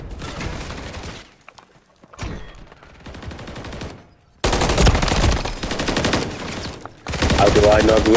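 Rapid automatic gunfire rattles through a Call of Duty MW3 ranked gun battle, sparse bursts at first, then loud sustained fusillades dominating the second half, with a voice faintly underneath.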